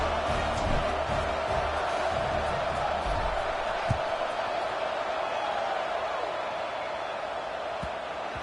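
A stadium crowd at a football game murmurs in a steady broad roar after a touchdown, with a few faint shouts and thumps rising from the wash of noise.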